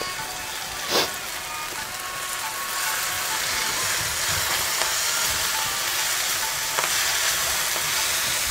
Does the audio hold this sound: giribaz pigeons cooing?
no